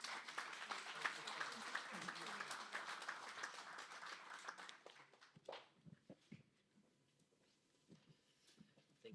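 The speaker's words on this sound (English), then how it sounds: "Can we have a round of applause for our Indian panelists?" A business-event audience claps for its Indian panelists, a dense burst of applause that fades after about five seconds into scattered claps, footsteps and faint voices.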